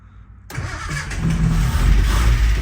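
Barn-find Datsun 240Z engine starting after 30 years: a sudden loud crank that catches and builds into a rough, rising idle.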